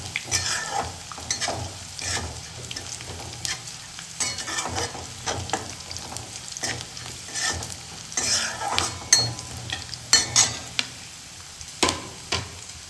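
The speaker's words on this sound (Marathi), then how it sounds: "शेंगदाणे आपण टाकले त्यात, ते पण तुम्हाला चांगल्या प्रकारे मिक्स करून घ्यायचे" Peanuts stir-fry with fried chillies in a pan, a steady close sizzle under repeated scraping strokes of a spatula in an irregular rhythm.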